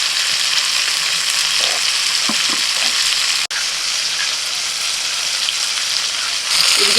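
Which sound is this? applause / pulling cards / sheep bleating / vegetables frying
vegetables frying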